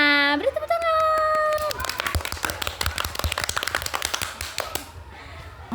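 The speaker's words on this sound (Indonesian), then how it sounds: "Beri tepuk tangan." A small audience at an Indonesian podcast recording on learning design claps after a guest is introduced, scattered, fairly close claps following a brief spoken phrase.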